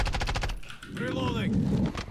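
Gunfire in the Call of Duty Modern Warfare 3 video game, a fast burst of automatic shots followed by rumbling battle noise, with voices speaking over the action.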